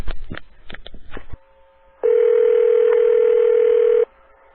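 A telephone call rings through to a pest control line: after a brief stretch of talk, a faint steady tone gives way to a loud, continuous ringback tone lasting about two seconds before cutting off.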